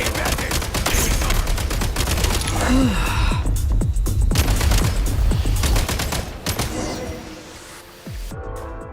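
Rapid gunfire in Genshin Impact, a dense run of automatic shots crackling close and loud for several seconds before thinning out, with a voice briefly speaking amid the volleys.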